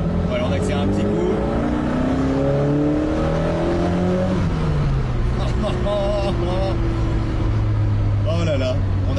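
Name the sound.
1965 Alfa Romeo Giulia Sprint Speciale engine accelerating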